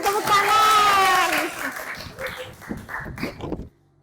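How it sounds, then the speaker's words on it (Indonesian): A class audience at a group presentation breaks into clapping after a loud chanted voice, the clatter of hands continuing under scattered voices before stopping abruptly. "Allahu Akbar, beri tepuk tangan."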